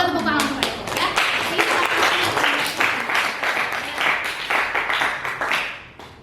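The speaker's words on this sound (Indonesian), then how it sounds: "Oh, ya boleh tepuk tangan untuk Eko ya." A classroom of students clapping for a classmate named Eko, brisk uneven applause running the whole time and tapering toward the end.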